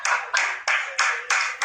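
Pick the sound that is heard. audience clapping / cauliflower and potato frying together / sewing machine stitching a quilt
audience clapping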